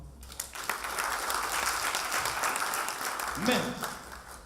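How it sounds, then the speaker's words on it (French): An audience in a comedy club applauds the women in the room, a dense sustained clapping that fills the space at moderate loudness, with crowd voices mixed in and a brief spoken exclamation near the end. "Applaudissez les femmes."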